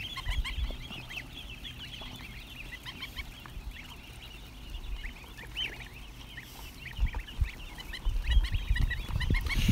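Ducks crowd close around someone's legs, giving busy clucking and honking quacks in scattered bursts, with shuffling and movement noise that grows louder toward the end.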